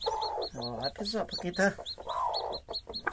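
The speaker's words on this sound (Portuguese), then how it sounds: "vamos tentar tirar aqui para ver quanto pintinho tem aqui" Newly hatched chicks peep in a rapid series of high, repeated chirps throughout, close by, with a hen clucking among them while someone talks over the sounds.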